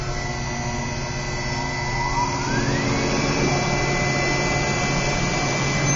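A Q3D/Q3X cutting machine starts up and runs with a loud, steady mechanical hum and whine. A rising tone settles into a constant drone partway through.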